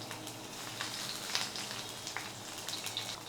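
Chopped garlic and ginger frying in hot oil for cauliflower Manchurian, a faint, steady crackle with scattered soft pops, alone and fairly quiet.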